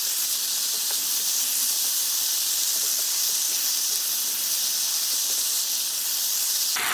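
Spicy pork and vegetables stir-fried over high heat in the style of a Korean drivers' restaurant jeyuk bokkeum, giving a steady, loud, close sizzling hiss that holds for several seconds and then stops abruptly, with no talking.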